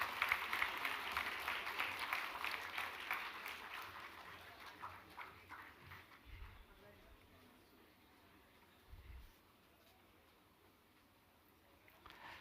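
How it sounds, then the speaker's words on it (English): Applause at a convocation ceremony for graduating commerce students fills a large hall, strongest at first and then tapering off to a low, distant patter. "Guys, big round of applause for all these students."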